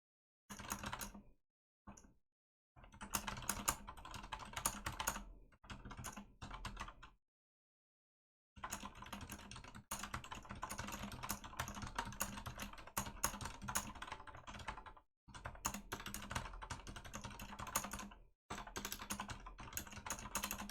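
Rapid clicky keyboard typing in quiet bursts, pausing briefly between runs of keystrokes, close and fairly soft.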